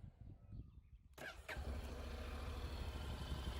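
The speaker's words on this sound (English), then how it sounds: "the idling it's okay, it doesn't struggle so much, but you can see it's not perfect all the time" A 2019 Honda NC 750X DCT motorcycle engine catches after a quiet moment and settles into a steady, close low idle rumble that runs to the end.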